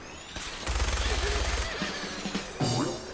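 An explosive minigun in Fallout 4 shredding gunners, a rapid rumbling burst of fire with rolling low booms, loud and sustained for about a second, followed by scattered blasts and someone talking over it.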